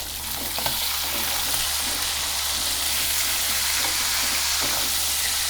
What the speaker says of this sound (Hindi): मीडियम हाई फ्लेम पे इसको 4 से 5 मिनट फ्राई करेंगे